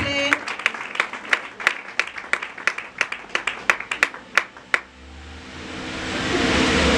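A handful of distinct, fairly close claps at a family ceremony, spaced unevenly over about five seconds, then fading into a swelling wash of broad crowd noise.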